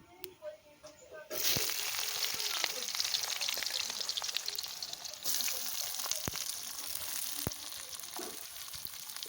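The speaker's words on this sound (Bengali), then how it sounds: "দুটো পাঁচ ফোড়ন দিয়ে দিলাম যেটা হালকা একটু ভেজে নিতে হবে" Panch phoron spices hit hot oil for a pointed gourd dish: after a quiet moment a close sizzle bursts in and holds steady, swelling again midway, with a few sharp crackles.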